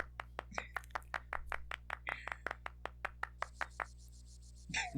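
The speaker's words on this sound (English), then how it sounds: "I'm so upset only the dad clapped" Game sound effect of clapping in Chibi-Robo: a steady run of sharp, evenly spaced claps, close and clear, with a soft tonal hum underneath before a louder burst at the end.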